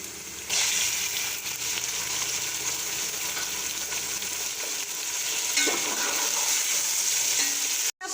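Chicken sizzling and frying in hot oil with lightly fried chopped onions, with steady loud crackling and occasional stirring scrapes throughout, briefly dropping out near the end.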